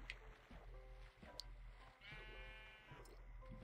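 Sheep in the video game Minecraft bleat in short, wavering calls, several overlapping cries at moderate loudness over a quiet game background.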